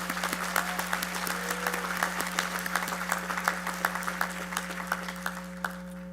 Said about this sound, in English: You may take a moment to applaud all their help.